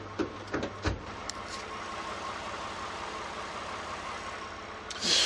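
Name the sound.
Lexus RX 350 SUV engine idling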